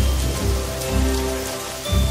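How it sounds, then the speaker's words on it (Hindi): Steady rain falling on surfaces, a loud, dense patter of drops that swells and eases slightly throughout, with no voices. "आखिरकार बारिश आ गई।"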